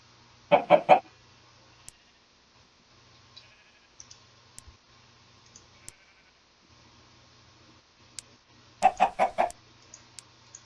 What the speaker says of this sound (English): he will get us more of these redstone chickens